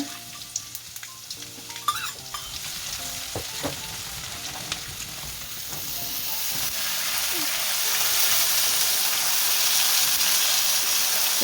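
Garlic paste and five-spice seeds frying in hot oil, a bright crackling sizzle with a few stirring knocks early on, the hiss swelling louder and steadier toward the end.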